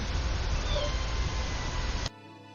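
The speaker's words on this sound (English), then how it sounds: "Did I just hear a tiny meow?" A small, faint meow against a steady outdoor hiss of background noise, which cuts off abruptly near the end.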